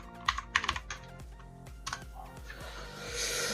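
Clicky keystrokes from a Yeyian Spark 2000 mechanical keyboard with Outemu Blue switches, typed close up in quick bursts and single taps, with no talking, giving way to a louder, steadier wash of noise near the end.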